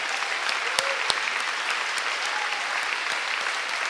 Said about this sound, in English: We're gonna do a big applause for you.